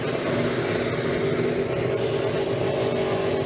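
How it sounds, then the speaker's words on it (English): A NASCAR Toyota Camry race car does a line lock burnout with its front tire locked, a continuous loud engine roar held steady, heard from a distance at a street victory lap event. "More of your typical line lock burnout."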